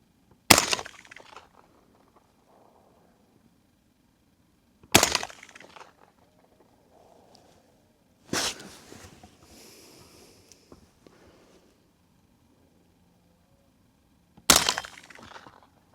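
Four sharp rifle shots fired while zeroing an EOTech sight, spaced irregularly over several seconds, each a loud close crack with a short decaying tail and quiet between.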